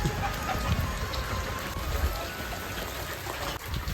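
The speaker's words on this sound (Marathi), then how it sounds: "पाऊस यायला लागला" Steady patter of rain falling on surfaces, a dense even hiss with light drops throughout, fairly close and continuous.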